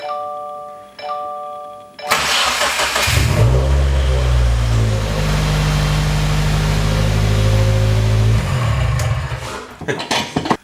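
A Subaru WRX engine cranks and catches, then roars loudly with a steady revving drone before cutting off abruptly; the sound is close and echoes in an enclosed garage.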